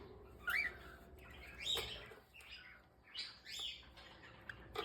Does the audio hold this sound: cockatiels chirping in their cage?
yes